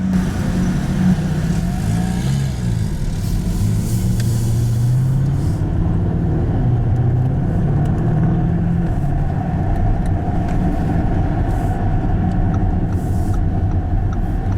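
Engine of a 2019 Lamborghini Urus SUV while driving, a steady low rumble from inside the cabin with gentle rises in pitch, continuous and fairly loud with no talk.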